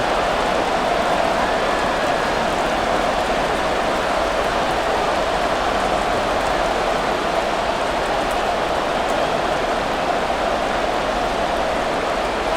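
Steady, even rain hisses across MetLife Stadium on a wet afternoon in Madden NFL 24, a constant broadband wash of falling water with no breaks.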